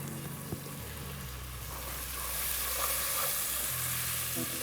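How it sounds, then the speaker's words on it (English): Chopped tomatoes hit softened onions in a hot pan on medium heat for a chicken stew, giving a steady close sizzle and frying crackle that swells slightly partway through, with faint stirring and no talk. "And now I'm gonna add in the tomatoes."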